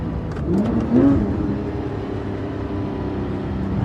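A Porsche 997.2 GT3 RS engine pulls and revs under acceleration, a close, steady mechanical drone with a brief rising surge early on before settling into a sustained hum.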